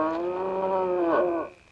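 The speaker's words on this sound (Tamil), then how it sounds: "என்னது அந்த பக்கத்து வீட்டு பசுமாடு அப்ப பிடிச்ச ஒரு மாதிரியா கத்திட்டு இருக்கு?" A neighbour's cow gives one long, loud, close moo that holds steady, then bends upward near the end before it cuts off. No voices are heard.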